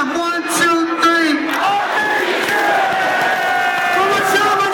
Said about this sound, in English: say, I believe in Skrillies, and clap your hands three times